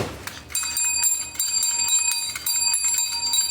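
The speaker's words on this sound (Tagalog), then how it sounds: "Ilabas natin tong bell na to." A handheld bell is rung repeatedly during a live-selling stream, bright metallic rings struck in a quick irregular series with overlapping ringing tones, loud and close with no speech.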